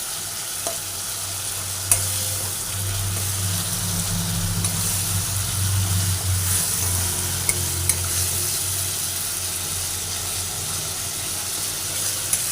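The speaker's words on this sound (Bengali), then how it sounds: "যতক্ষণ না এটা মশলাটা ভাজা হয়ে তেল বের হচ্ছে ততক্ষণ পর্যন্ত আমি মশলাটা নেড়ে কষে" Spice paste for a rui-katla fish jhal curry fries in hot oil while being stirred, a constant close sizzle and hiss with occasional sharp scrapes and taps of the spoon against the pan.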